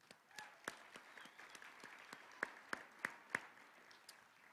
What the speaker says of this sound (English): One more round of applause for Ogie.